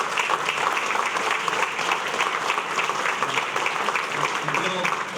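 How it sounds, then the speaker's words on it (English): A room full of people applauds steadily, dense clapping holding at an even level throughout without breaks. "And one more great round of applause."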